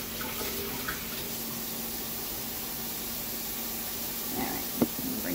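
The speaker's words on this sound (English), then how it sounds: "I need to rinse my hands." Tap water runs steadily while hands are rinsed in a kitchen sink during shrimp scampi prep, a constant hiss with a brief clatter near the end.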